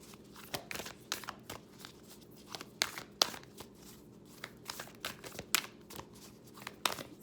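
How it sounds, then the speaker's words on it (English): A Journey deck of cards is shuffled by hand in a steady run of crisp, papery riffles and soft slaps, close and clear, with no talking over it. "going to shuffle from the Journey deck here."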